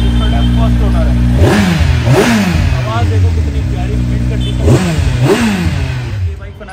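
A used Kawasaki Ninja superbike at a Delhi bike market idles with a deep rumble and is revved hard twice, each throttle blip rising and falling sharply, close and loud.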